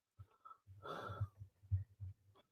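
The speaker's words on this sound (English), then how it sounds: "I'm breathing heavy." Heavy, labored breathing close to the microphone after climbing stairs: several ragged, wheezy breaths with a longer rushing exhale in the middle, quiet and alone.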